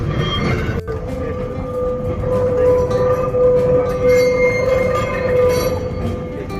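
Heritage tram reversing on street rails in Blackpool, a loud close rumbling run with a sustained squealing tone from wheels on rails and a sharp clack near the start, no speech.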